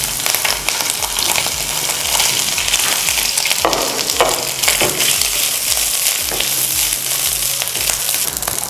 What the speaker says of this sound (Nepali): यो बफलाई चाहिँ हामी यसमा राखेर एकछिन मज्जाले सटे गर्छौं।